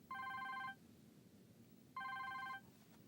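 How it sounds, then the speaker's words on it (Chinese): A telephone rings twice, each trill lasting about half a second with a pause between, fairly loud and clear over quiet room tone. "我接个电话。"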